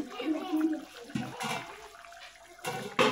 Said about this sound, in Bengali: তরকারিটা আমার কিন্তু ফুটে উঠেছে। আমি ঢাকনাটা উঠিয়ে নিয়েছি।